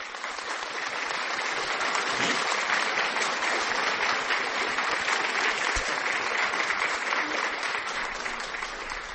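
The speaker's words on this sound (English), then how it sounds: "Let's clap to that." Dense, continuous clapping from a group fills the space with loud, even applause that holds steady without a break.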